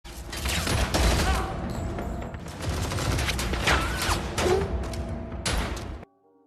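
A shootout between spies and an outnumbered group in a film, with loud, dense bursts of gunfire and thuds that continue for about six seconds before cutting off abruptly.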